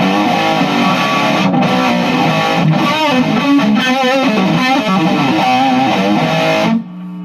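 Heavily distorted electric guitar plays through a Hughes & Kettner Tubemeister 36 tube amp head with the gain cranked high, loud strummed chords and riffs ringing close up before cutting off near the end.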